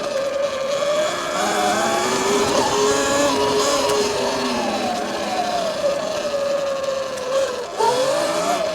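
An E Ride Pro SS electric bike ridden off-road in eco mode, its motor giving a steady whirring drone that rises and falls with speed, mixed with rolling tire and terrain noise, close and continuous for several seconds.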